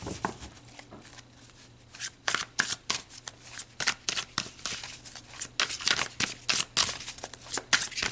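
A deck of oracle cards is shuffled close by: quiet handling at first, then a run of sharp, riffling flutters and slaps that repeat rapidly, with no talking.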